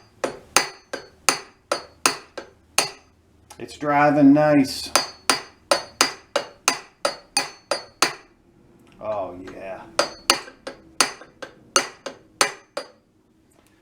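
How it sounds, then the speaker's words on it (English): Light, evenly spaced metallic taps from a small hammer on a Craftsman 7 1/4 inch circular saw part, about two dozen sharp clinks close by, with a brief spoken remark breaking in twice. "I'm going to tap it lightly with a smaller hammer."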